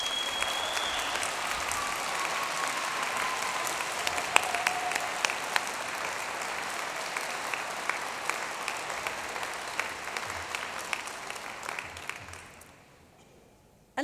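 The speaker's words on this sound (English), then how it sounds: "let's give them a massive round of applause" Large audience at a Manchester degree ceremony applauds the graduates' families and friends, dense sustained clapping filling the hall, slowly fading and ending abruptly near the close.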